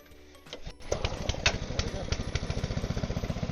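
A LANDHONOR LHR-TWP80 water pump's small engine is pulled over, catches after a couple of attempts, and settles into a fast, steady, loud chugging with a clear rhythmic pulse.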